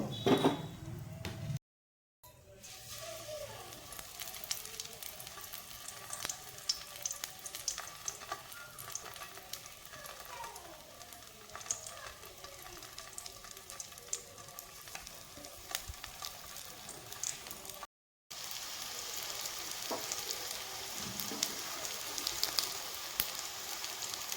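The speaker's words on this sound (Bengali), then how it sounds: "বাকিগুলো আমি এভাবেই ফ্রাই করে নিব" Stuffed flat beans (sheem) frying in hot oil give a steady, dense sizzle throughout, with occasional stirring clatter and two short silent gaps.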